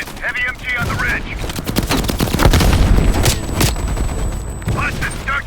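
Heavy machine gun fire in Call of Duty: Black Ops Cold War, loud sustained bursts with booming impacts and explosions across the whole stretch, under shouted in-game voices and combat chatter.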